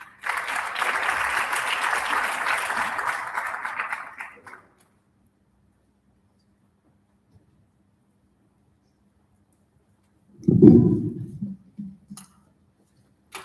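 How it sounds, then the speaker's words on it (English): Applause from a crowd at a national launch event for a waste innovation challenge for about four seconds, then it fades to near silence, followed later by a brief burst of low handling or tapping noise. "Let's give a round of applause to Mr. Kukubwe."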